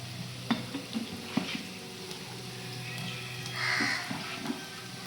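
Chili powder fries in hot oil for mutton biryani, giving a quiet, steady sizzle broken by soft stirring scrapes and clinks.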